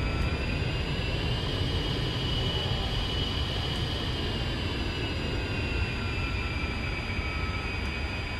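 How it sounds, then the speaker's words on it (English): Jet aircraft engines roar steadily in a flight simulator during a busy multiplayer fly-in event, a continuous loud broadband rumble with a high whine holding through the whole stretch. "Busy airspace, there's like four different jets here"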